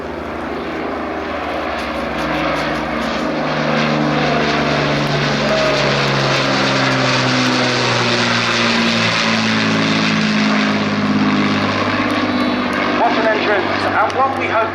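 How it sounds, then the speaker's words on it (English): The four piston engines of an Avro Lancaster bomber roar at an airshow as it makes its approach, a steady deep propeller drone that swells and stays loud throughout, with an announcer's voice running underneath. "I'd like to give you a moment to appreciate the roar of the iconic engines as they make their approach now"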